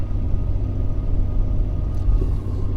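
A tuned Ford Powerstroke diesel truck in 4-wheel drive towing a 10,000 lb load makes a steady low engine rumble and road drone from inside the cab, continuous and unchanging.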